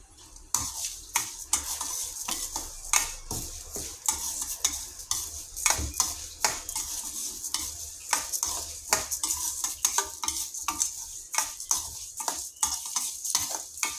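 Moong dal roasting in ghee in a pan, with a spoon stirring continuously: rapid, irregular scraping clicks and taps over a soft sizzle, close up and with no talking.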